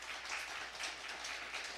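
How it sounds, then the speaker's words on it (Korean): A church congregation claps steadily to thank the teachers, a dense, even patter of many hands lasting a moment without pause. "박수 한번 부탁드립니다"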